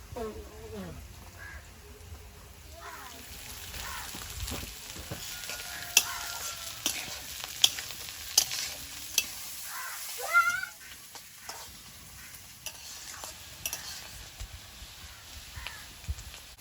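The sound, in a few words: beans and carrots frying and stirred in a wok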